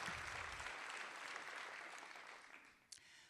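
Steady applause from an audience at a State of the City address, dense and sustained, tapering off near the end with a brief sharp clap-like spike.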